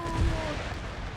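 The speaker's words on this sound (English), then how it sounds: "Oh, enemy cannons are firing into my pile." Enemy cannons in an Empire: Total War battle fire a single heavy, booming blast that rolls out into a low rumble over constant battlefield noise.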